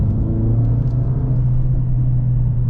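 A Mercedes-Benz CLA45S AMG engine in drift mode, a steady loud low drone with a deep rumbling hum, heard close and continuous with no talking.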